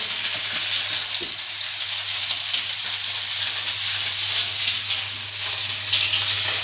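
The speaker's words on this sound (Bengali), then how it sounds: "পাঁচটা মাছগুলো দিয়ে দিলাম ভাজতে, চারটে দিয়েছি আর চারটে দেবো।" Fish fried in a pan give a loud, continuous sizzle and crackle of hot oil, close and steady throughout, with a brief knock near the start.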